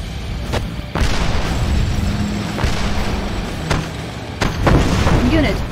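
Repeated heavy salvo blasts from Red Alert 2, the 20XX mod, with several booming impacts spread over a rumbling low-end battle din, loud and close, while unit voice lines chatter over the fighting.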